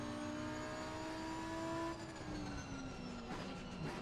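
A race car engine in Assetto Corsa Competizione whines steadily, its pitch holding and then dropping as the car slows, loud and continuous for about four seconds with no speech.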